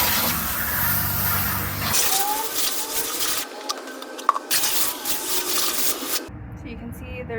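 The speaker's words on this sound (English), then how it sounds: "We're gonna spray out this bucket, get out all that gunk." Water sprays hard in loud hissing bursts into a bucket while cleaning it out, cutting off and starting again several times, with splashing against the hollow container nearby.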